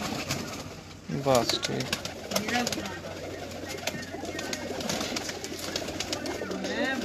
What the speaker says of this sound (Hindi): दोस्तों ये भी एक लाखा कबूतर है उस्ताद जी का